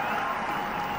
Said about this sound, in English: Getting an applause for the effort, the fielder there in the deep.